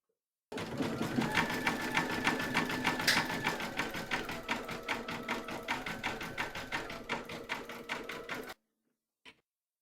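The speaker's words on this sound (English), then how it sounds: "stitch round number 7, and that's going to zigzag around here" An embroidery machine runs a zigzag stitch on faux fur for a dog coaster, a steady close rhythmic chatter of rapid needle strokes for several seconds that stops abruptly, then a single faint tap.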